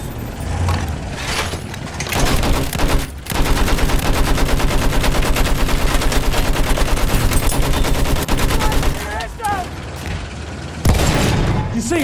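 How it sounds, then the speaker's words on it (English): Sustained machine gun fire in the Battlefield 1 game rattles in a rapid, even stream of loud shots for several seconds. Heavy booms and game noise come before and after it. "Enemy machine gun sighted."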